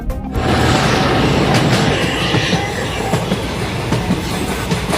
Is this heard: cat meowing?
no